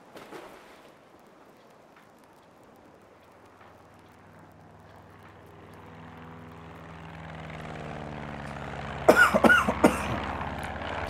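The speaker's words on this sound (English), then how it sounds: "Excuse my cough today." A brief cluster of sharp coughs near the end, after a long stretch of low, rising engine-like rumble.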